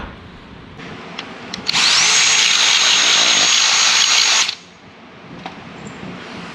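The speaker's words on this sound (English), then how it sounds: "So I'm gonna go ahead and drill that out" An electric drill whines loudly and steadily for about three seconds, drilling out a bolt hole on a Chevrolet Squarebody truck, bracketed by quieter handling noises and faint clicks before and after.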